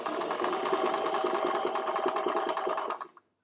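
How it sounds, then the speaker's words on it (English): A sewing machine stitches fabric with a fast, even mechanical whir and rapid needle clatter, running steadily up close for about three seconds before stopping abruptly. "Okay, can you see I'm sewing about 1/8 of an inch away."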